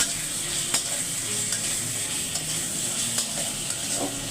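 Spices and tomato are fried and stirred in a pan for egg bhuna, a dense steady sizzle with a few spatula knocks and scrapes, close and unaccompanied by speech.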